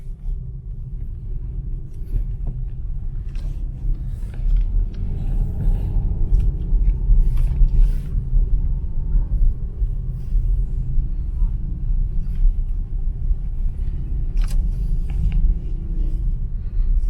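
Car rolling along a rough stretch of the Mactan Circumferential Road, a steady loud low rumble of tyres and engine with wind buffeting, continuous and close.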